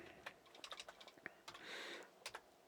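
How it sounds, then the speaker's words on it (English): Quiet keystrokes typing a command on a computer keyboard running VM/370 with CMS, a quick irregular patter of soft clicks with a short pause between bursts, no talking. "let me type in xlist"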